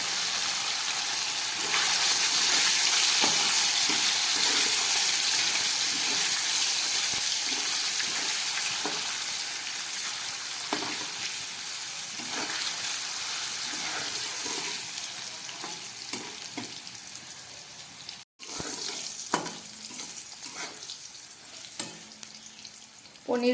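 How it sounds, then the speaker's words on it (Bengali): Cubes of paneer frying in hot oil in a pan, a steady busy sizzle with occasional stirring scrapes and clinks, close and continuous, easing slightly toward the end. "এবার এই তেলের মধ্যে আমি পনিরগুলোকে ভেজে নিচ্ছি।"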